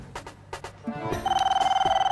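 A telephone rings with a rapid, trilling electronic bell after some brief clattering noises; the ring pulses steadily until the end.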